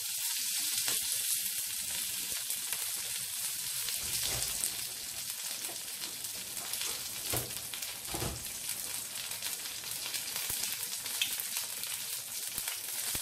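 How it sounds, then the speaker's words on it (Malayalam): Curry leaves dropped into hot oil with crackling mustard seeds for tomato rice, a steady bright sizzle with scattered pops and a few sharper spatters, fairly quiet and close, with no one speaking. "അപ്പോൾ നമ്മളുടെ കറിവേപ്പില ഇട്ട് കൊടുക്കാം."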